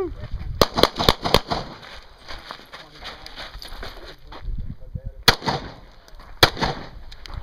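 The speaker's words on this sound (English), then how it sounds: "Nice shooting." Handgun shots at a concealed carry shooting match, sharp loud cracks in quick clusters, a rapid string early, then a few more later, with people talking in between.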